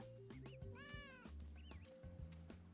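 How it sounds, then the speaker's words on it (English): A cartoon cat in the Monopoly Plus board game meows several times in quick succession, with rising and falling tones, over bright, sustained game music notes. "Oh, look at the little kitty cat."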